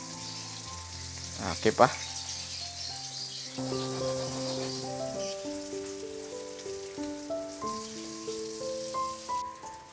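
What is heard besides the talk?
salmon head frying in hot oil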